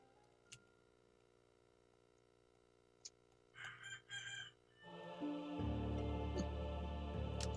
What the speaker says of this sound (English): the Roosters is up. I hear him.